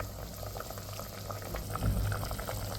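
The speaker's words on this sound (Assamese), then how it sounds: "পানীটো উতলাইছে, এতিয়া মই ইয়াতে চাউলকেইটা দিওঁ ৰ'ব।" A pot of water boils hard on the stove before rice goes in for chicken biryani, bubbling and rumbling close up in a steady churn with a brief louder surge near the end and no speech.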